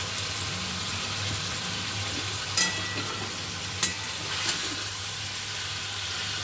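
Fried small rohu fish stirred into mustard curry in a pan: a steady low sizzle with a few sharp utensil knocks against the pan, close and moderately loud.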